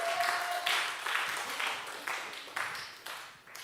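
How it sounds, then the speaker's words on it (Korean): A church congregation at a Sunday worship service claps in encouragement for a young man heading off to military service, a modest, fairly faint patter of applause with soft rhythmic pulses. "우리 윤구에게 잘 다녀오라고 응원의 박수 해주시면 가장 감사하겠습니다"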